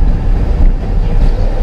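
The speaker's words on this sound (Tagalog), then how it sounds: "Nag-i-struggle yung makina kanina nung naka-second gear ako dahil paakyat nga po itong kalsada na ito." A car engine strains uphill in second gear on a steep road with humps, a loud, continuous low drone with wind buffeting and no talk.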